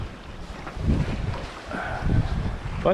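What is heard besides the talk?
strong wind at sea on sailboat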